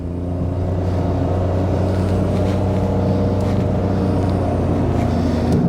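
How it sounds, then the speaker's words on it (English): A 2013-era K13 Nissan Micra 1.2 automatic with CVT accelerating on an open road out of a village, a steady droning engine and transmission whine heard from inside the cabin, loud and constant throughout. "you've got that kind of classic whine of the CVT"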